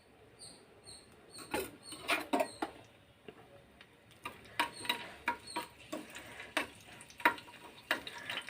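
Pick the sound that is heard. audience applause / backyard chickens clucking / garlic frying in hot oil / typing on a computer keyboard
garlic frying in hot oil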